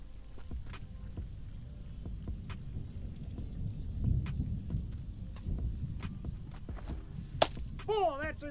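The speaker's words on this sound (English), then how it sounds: "Nice little lightning action" Thunder rumbles through a rainy ballpark scene in the MLB The Show 24 baseball video game, low and steady under patter, with sharp cracks along the way and a brief whistle-like effect at the end.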